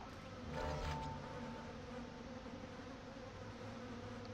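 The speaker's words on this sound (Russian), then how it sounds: "Мухи летают." Flies buzz in a continuous faint drone inside a derelict spaceship corridor in the game Dead Space, with no voices.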